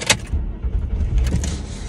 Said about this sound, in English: I hate when people park right next to me when I'm recording.